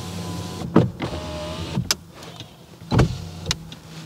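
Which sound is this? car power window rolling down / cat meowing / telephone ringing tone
car power window rolling down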